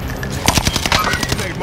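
Rapid bursts of automatic gunfire in a battle royale video game, loud and close, with sharp repeated shots in quick succession while a voice speaks over them.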